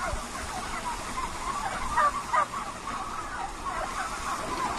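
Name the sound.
poultry birds in a farm barn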